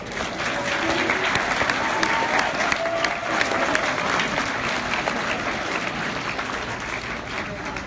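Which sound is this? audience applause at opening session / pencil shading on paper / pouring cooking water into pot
audience applause at opening session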